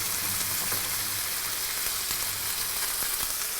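Chicken and garlic sizzling in a hot pan for a stir fry, a steady bright crackling hiss with occasional sharp pops, close and continuous with no talking.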